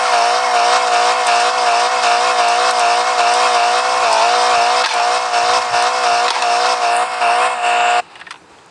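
A Mitsubishi Lancer engine revs loud and close, holding a high, steady whine with slight wavering for several seconds before cutting off abruptly.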